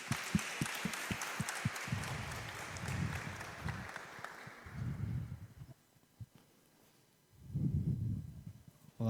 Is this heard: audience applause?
yes